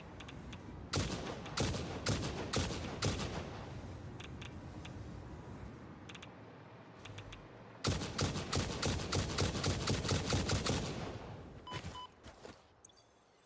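Rapid bursts of gunfire in the factory-building game Satisfactory, two long runs of sharp, evenly spaced shots separated by a quieter pause, loud and close, ending in a few scattered pops.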